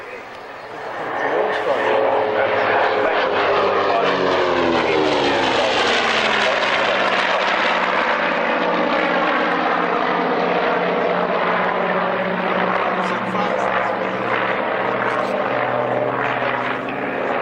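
Yak Sukhoi aerobatic propeller aircraft displaying at the 1998 Woodford Airshow, a loud sustained engine drone rising and shifting in pitch as it passes, with crowd or commentary voice mixed underneath.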